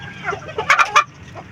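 An aseel hen settled on a clutch of eleven eggs gives a short run of clucks, three close, loud bursts in the middle with softer clucking before and after.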